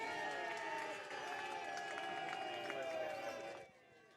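A crowd at a lawn bowls match cheers for Hillsdale with a faint, sustained roar of many voices. It lasts about three and a half seconds, then quickly drops away.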